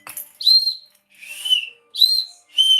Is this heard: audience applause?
no